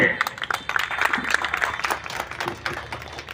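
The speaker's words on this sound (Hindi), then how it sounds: "जोरदार ताली से" Applause at a meeting of a Bihar state employees' federation: scattered clapping from a modest crowd, mixed with voices and shouting in the room.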